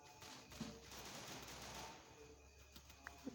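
Rapid bursts of gunfire ring out from a shooting video game, with a sustained rattle of shots at moderate level and a few sharper isolated cracks toward the end, no talk.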